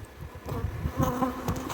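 Honey bees buzzing around a hive where they are being fed, a steady close insect drone rising and falling as individual bees pass near, with no talking.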